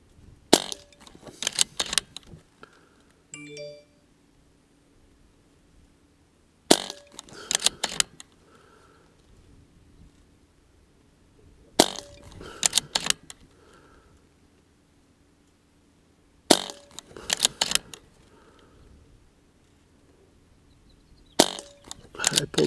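A Barra 1100Z .22 PCP air rifle fires JSB pellets at a 30-yard range, sending out several sharp cracks in clusters spaced seconds apart, with faint mechanical clicks and handling noise between them.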